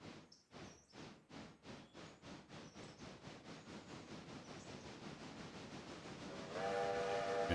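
A train runs in the railroad simulation game Railroader, beginning with a steady rhythmic chugging that speeds up into a continuous rumble, then a loud, sustained whistle sounds near the end. No one talks.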